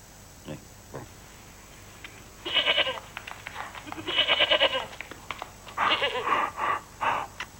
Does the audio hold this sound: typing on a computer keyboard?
no